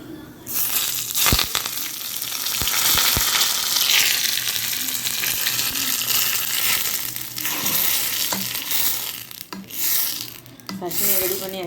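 Spices for tempering sizzle and crackle loudly in hot oil for a spicy kara chutney, a dense continuous frying hiss with scattered pops and stirring scrapes, near and steady throughout.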